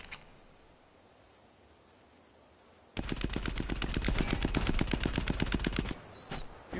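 Sustained automatic gunfire in Sniper Elite 4 bursts in suddenly after a quiet stretch, a loud rapid string of shots lasting about three seconds before cutting off, followed by faint clicks.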